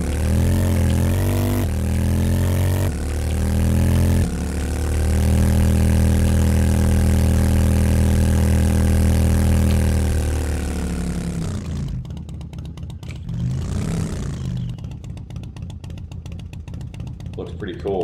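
A vehicle engine idles in 7 Days to Die Alpha 17, likely a motorcycle or minibike, with a steady loud mid-low drone and shifting pitch that fades as a voice talks over the latter part.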